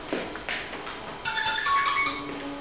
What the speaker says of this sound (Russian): у меня телефон звонит